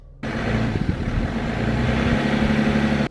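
A BMW X5 on 21-inch tyres pulling a BMW 318i out. Steady engine rumble begins abruptly after a brief quiet moment, holds at a constant level and then cuts off at the end.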